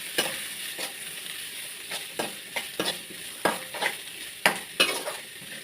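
Small shallots, two onions' worth, sizzle and fry in a pan for a ragi adai, with irregular scraping stir strokes breaking through the steady hiss; close and moderately loud, no voices.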